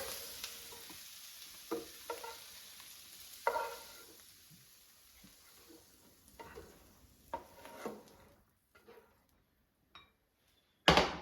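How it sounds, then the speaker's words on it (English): Faint sizzling of canned green beans in a frying pan after the heat is turned off, with scattered scrapes and clinks of utensils against the pan, ending with a louder clatter. "now let's turn off the heat and I'll remove them from the frying pan."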